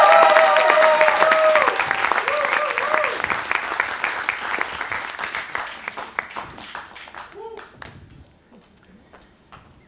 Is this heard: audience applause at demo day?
yes